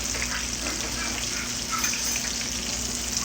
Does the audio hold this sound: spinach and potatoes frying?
yes